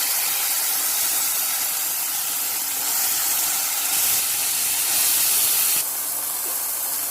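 Tamarind juice poured into shallots frying in oil in a hot pan gives a steady, loud hiss and sizzle that swells briefly a few times and carries on without any talking.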